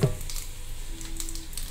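Mustard seeds sizzle in hot oil in a kadai on a home stove, a soft steady frying hiss with faint crackles and no voices.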